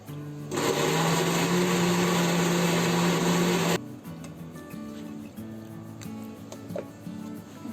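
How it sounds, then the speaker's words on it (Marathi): A kitchen mixer grinder whirs loudly for about three seconds, grinding a cooled roasted masala paste, then cuts off abruptly and leaves quieter kitchen clatter and background sounds. "आता आपण हे वाटण मिक्सरमध्ये काढून घेऊ"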